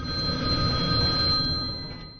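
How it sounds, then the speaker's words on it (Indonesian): A telephone rings close and loud with a steady electronic trill, then fades out near the end. "Suatu pagi si narator mendapatkan telepon"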